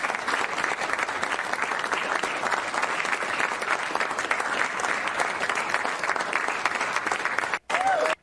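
Sustained applause from an audience at a bill signing, steady and dense for about seven and a half seconds, then breaking off abruptly near the end.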